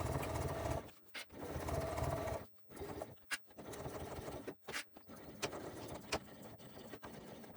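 Sewing machine stitching through the bulky bottom flap of a crossbody bag, running in bursts with short pauses between runs of stitches, steady and close.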